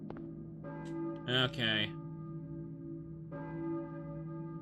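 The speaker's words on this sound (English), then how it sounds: "I hear a church bell, maybe? Who's ringing the bell?" A church bell rings in the Silent Hill video game, with loud, sustained tolling tones that carry across the clip beneath a brief spoken word.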